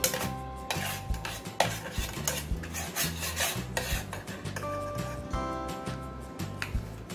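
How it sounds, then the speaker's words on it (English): Agar powder mixture stirred in a container, with steady rhythmic rubbing and scraping strokes and occasional light clinks, close and continuous with no talking. "Then give it a little stir."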